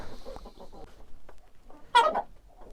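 A large Amrox or Livenskaya hen clucking as it is caught by hand on a farm, a few soft clucks followed by one loud, sharp squawk, close by with no talking.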